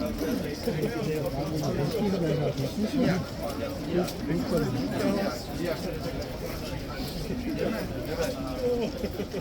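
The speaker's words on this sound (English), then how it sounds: "You probably hear guys behind me, it's completely packed here." A dense crowd at Horse Guards in London murmurs and chatters all around, steady overlapping voices filling the packed space close by with no single speaker standing out.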